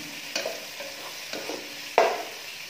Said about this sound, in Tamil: ரெண்டையுமே சேர்த்து இதல ஆட் பண்ணிரலாம் ரொம்ப பிரவுன் கலர் ஆகணும் அவசியம் இல்ல லைட்டா வதங்கினா போதும்